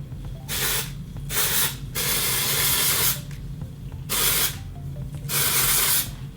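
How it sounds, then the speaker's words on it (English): Dry shampoo spray hisses onto hair in about five close, loud bursts of uneven length, separated by short quiet gaps. "So once I've applied the dry shampoo, I just like to massage it into my head."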